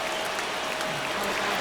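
A stadium crowd in the baseball video game MLB The Show 25 cheers and applauds, a dense, steady roar of clapping and noise filling the whole short stretch with no clear speech.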